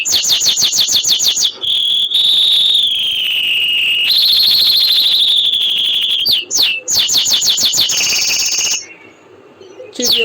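Small birds chirp in rapid, repeated bursts with piercing whistle-like trills, loud and close, continuing almost without pause before fading briefly near the end.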